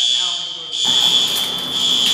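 A building fire alarm system sounds after a pull station is activated, a loud continuous high-pitched tone with buzzing, holding steady and close for the whole stretch.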